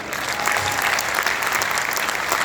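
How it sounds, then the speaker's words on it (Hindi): Audience clapping for the organisation AWPL at a gathering, a loud, sustained round of crowd applause filling the whole moment. "एक बार फिर से आप हमारी संस्था AWPL के लिए जोरदार तालियां बजाएं"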